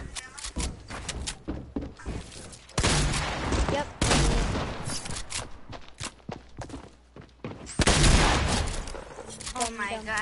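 Heavy shotgun blasts in a video game, several loud booming shots spread unevenly across the clip amid busy game noise, with no one speaking.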